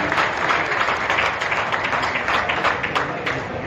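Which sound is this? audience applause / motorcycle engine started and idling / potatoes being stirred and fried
audience applause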